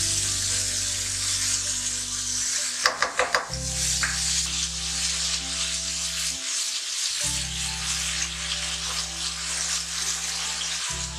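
Garlic paste sizzles steadily in a hot pan for a fish curry, a continuous close frying hiss with a short burst of clatter partway through.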